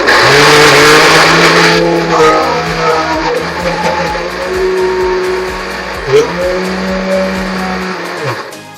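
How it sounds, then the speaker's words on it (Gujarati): A loud, steady motorized whir of a mixer grinder grinding a sweet mixture for ladoos, winding down and shifting pitch before dying away near the end, with no talk. "કઈ રીતનું આપણે મિક્સરમાં દળ્યું છે"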